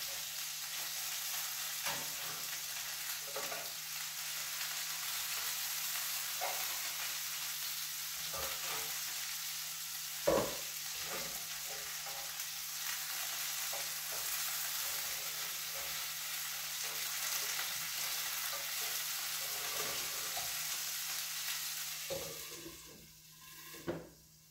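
Ginger pork meatballs fry in a pan with a low, constant sizzle and hiss, punctuated by occasional soft clicks and one sharper knock, faint and steady throughout with no talk.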